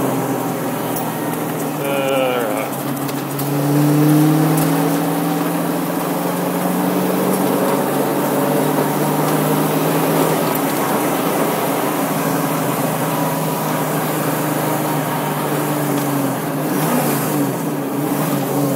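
A restored 1973 Ford Mustang Mach 1 heard from inside while driving on a bumpy country road, its engine droning steadily with a rising rev early on and road rumble underneath.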